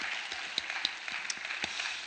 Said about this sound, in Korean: 우리에게 힘을 주시는 주님께 우리 감사와 영광의 박수를 올려드리겠습니다